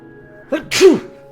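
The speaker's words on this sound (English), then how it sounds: "Sorry, I gotta sneeze." A single sharp sneeze bursts out after a short inhale, close and loud, with nothing else around it.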